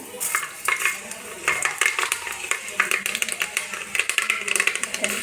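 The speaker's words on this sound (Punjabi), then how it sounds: "ਹੁਣ ਮੈਂ ਤੇਲ ਨੂੰ ਚੰਗੇ ਤਰੀਕੇ ਦੇ ਨਾਲ ਗਰਮ ਕਰ ਲਿਆ ਹੈ ਹੁਣ ਮੈਂ ਇਹਦੇ ਵਿੱਚ ਐਡ ਕਰੂੰਗੀ ਖਰੇ ਮਸਾਲੇ" Whole spices (fenugreek seeds, coriander, black pepper, cumin and red chilli) dropped into hot oil for Punjabi-style kadhi pakora sizzle with a bright, steady crackle, mixed with spoon stirring and pan clinks.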